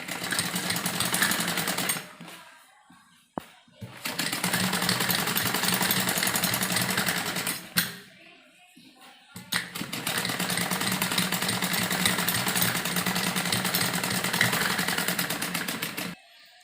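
An electric sewing machine stitches fabric for a pleated girls' frock, running in three long loud continuous whirring bursts separated by short pauses, close up, with no voices.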